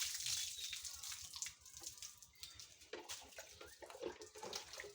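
Water splashing and pouring during household washing, an uneven close run of faint gushes and spatters that rise and fall in bursts, without speech.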